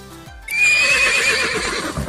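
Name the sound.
horse neighing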